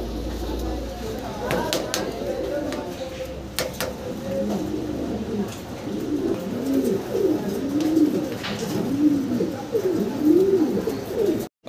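Pigeons at a Bangladeshi pigeon seller's loft coo in repeated low, rolling phrases that grow steadier in the second half, with other bird calls, faint clatter and someone talking intermittently in the background.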